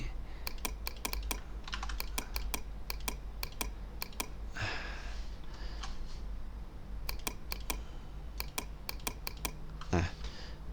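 Rapid bursts of keystrokes on a computer keyboard while HTML code is entered, close and crisp, coming in quick irregular clusters with short pauses over a low steady hum.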